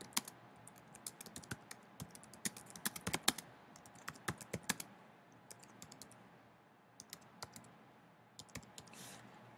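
Quiz question text typed on a computer keyboard, bursts of sharp close key clicks with short pauses between words and phrases, no talking.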